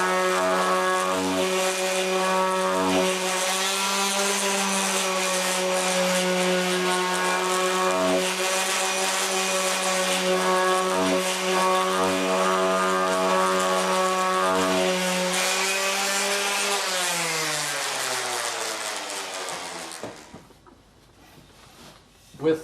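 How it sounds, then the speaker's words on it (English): An orbital sander finishes wood at 100 grit, with 220 and 320 grits to follow. It gives a steady, loud motor whine with faint pulsing, then winds down and stops near the end. "For the finishing sanding, I do use a orbital sander, and I start with 100 grit."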